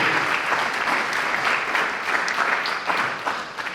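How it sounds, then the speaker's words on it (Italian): Sustained theatre audience applause at the Teatro delle Ortiche in Padova, a dense, steady wash of many hands clapping at close range that holds loud and even throughout. "Quindi un applauso al Teatro delle Ortiche, Padova, con Invisibili."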